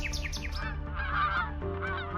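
Geese honk in a series of loud, close calls, with several honks in quick succession followed by more drawn-out honking and chirping, and no talking.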